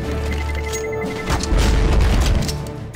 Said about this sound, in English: It is going to explode!